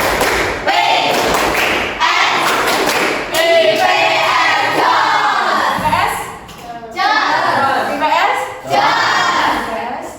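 A class of children claps together in quick rhythmic bursts, chanting along loudly between the claps, in an Indonesian classroom.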